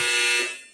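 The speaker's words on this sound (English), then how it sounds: "my dryer went off, that's the alarm." Clothes dryer alarm going off indoors, a single brief, bright electronic beep that fades away quickly.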